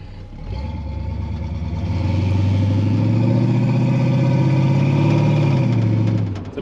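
A Pontiac Firebird engine with a 4-barrel carburetor, headers and full exhaust starts up loud and close, rumbling steadily, then rises into a sustained rev before easing back down.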